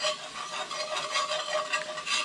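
A whisk scraping through all-purpose flour and fat in a hot pan to form a paste, a steady rhythmic rasping of quick close strokes, alone without talk.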